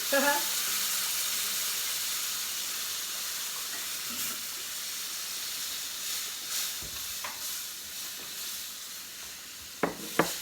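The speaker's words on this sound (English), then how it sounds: "oh, look at that steam, guys" Water poured into a hot pan for homemade enchiladas makes steam hiss loud and steady for the whole stretch. A few clanks from stirring come near the end.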